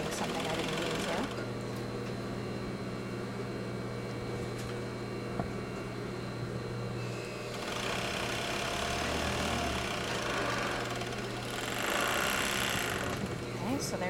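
A 5-thread serger sews the side seam of a skirt, its motor humming steadily in longer runs with short pauses and a voice faintly present at times.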